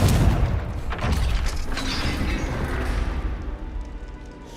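A Confringo blasting spell bursts in Hogwarts Legacy with a deep, booming explosion up close, and its rumbling roar trails off over several seconds.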